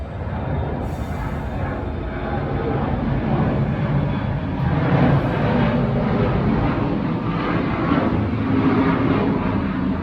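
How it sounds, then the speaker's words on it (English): An airplane passes overhead in a long, steady broadband roar that stays loud and continuous for the whole stretch, with no speech over it. "Just waiting for the plane."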